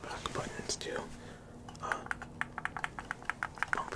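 Back buttons on a game controller, built to imitate keyboard clicks, snap in a quick run of crisp, close clicks, preceded by soft whispering.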